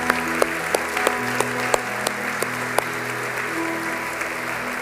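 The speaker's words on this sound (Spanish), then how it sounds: "Le damos un fuerte aplauso al Señor." Congregation applause at a Spanish-language church service, a steady broadband wash of clapping with a few sharper claps standing out, continuous across the whole stretch with faint background tones.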